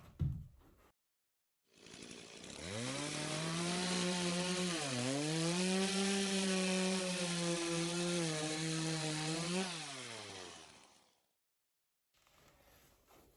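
A Sawzall reciprocating saw blade cuts through timber batt insulation around a plug. It gives a steady, loud, buzzing motor whine for about nine seconds, dips briefly in pitch midway, then winds down and stops.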